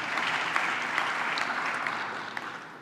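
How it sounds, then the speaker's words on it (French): Audience applause at a speech on a new Africa–Europe alliance: a dense, steady patter of many hands clapping, moderately faint and even throughout, with no voices. "Vous pouvez les applaudir parce qu'ils ont fait un travail formidable."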